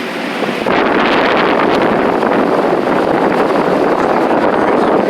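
A 42-inch agricultural exhaust fan running, heard from the front in its airflow: a loud, steady broadband rush of air that starts abruptly and holds constant, with no choppy pulsing.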